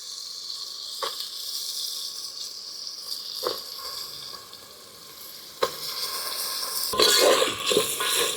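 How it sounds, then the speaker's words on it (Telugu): Cashews and green peas frying in a pan with ginger paste for restaurant-style veg biryani, giving a steady close sizzle with occasional stirring scrapes and clinks that grow busier toward the end, with no talk. "ఇప్పుడు మనము కాజు వేసేసుకుందాము తర్వాత పచ్చి బఠానీ కూడా వేసేసుకుందామండి"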